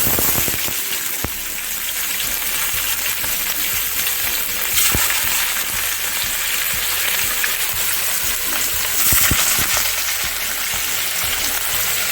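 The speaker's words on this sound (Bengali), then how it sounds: "তেলটি এবার গরম হয়ে গেছে, এবার আমরা পনিরগুলো ভেজে দেব" Paneer pieces fry in hot oil, a continuous soft sizzle with a few sharp pops and clicks of utensils, close and fairly quiet.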